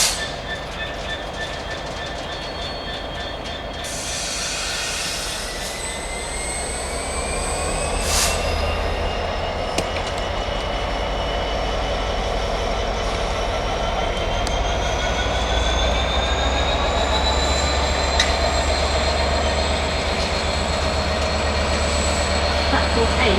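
A train rolls through Doncaster station with a steady, loud rumble and rising wheel squeal, metallic screeches and clicks over the rails, building gradually as it passes close by.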